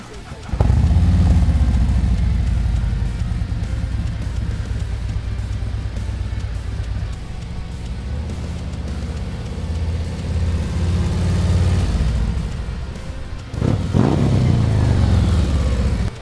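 A Harley-Davidson motorcycle with a Stage 2 upgrade rumbles loudly and close, holding a deep steady idle with swelling revs, then dips briefly before surging again near the end; faint voices may sit under the engine.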